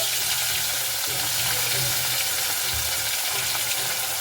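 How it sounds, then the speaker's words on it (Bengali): Pieces of rui fish frying in well-heated oil in a wok, a dense, loud, continuous crackle and bubble heard close up, with no talking. "মাছগুলো ভাজবো তার জন্য আর দেখুন বন্ধুরা তেলটা কিন্তু খুব ভালো মতো করে কিন্তু গরম করে নিতে হবে"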